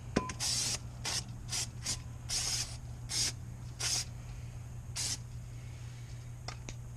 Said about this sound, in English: we want to make sure we use some brake clean